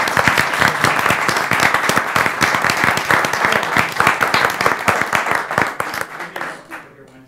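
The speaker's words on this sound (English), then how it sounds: "Let's go around the applause." An audience at a school board meeting claps, loud and close with distinct, rapid hand claps from a modest group that continue steadily before thinning out and fading near the end.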